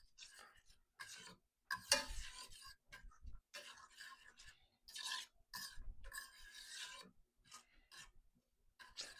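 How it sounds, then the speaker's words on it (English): Scrambled eggs are stirred in a pan over low heat, giving soft, intermittent scraping and rubbing strokes in irregular bursts, fairly quiet and close, with no talking. "secret to really good scrambled eggs is you want to move it around"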